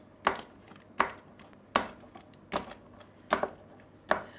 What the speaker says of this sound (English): that little bit of garlic is going to get blended in with the sage with the mezzaluna